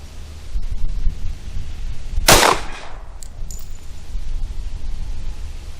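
A single sharp Federal HST .45 ACP pistol shot fired from a full-size duty handgun over a chronograph rings out once mid-clip, loud and close, with a short ringing decay and no talking.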